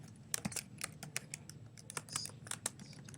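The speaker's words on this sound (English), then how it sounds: "So I can type text" Keys clatter on a computer keyboard in a web page editor, a quiet, irregular patter of separate clicks with brief pauses between bursts and no voices.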